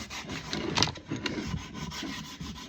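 Sandpaper rubs back and forth over a new hickory axe handle in rhythmic, close strokes, a soft dry rasping that swells and fades with each pass, with no talking.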